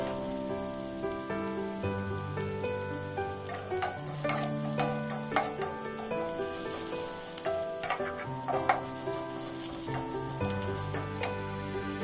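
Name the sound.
stir-frying crushed dried chillies in a pan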